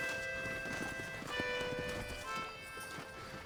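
Horse hooves clip-clop at a steady trot in the video game Red Dead Redemption, fairly quiet and continuous, blended with a soft tonal music or bell-like background.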